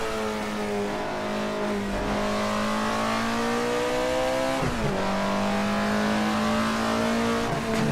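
Race car engine in the Assetto Corsa driving game holds a steady, loud droning tone, dipping as it shifts near two and five seconds and then climbing again under throttle, with faint tire squeal mixed in.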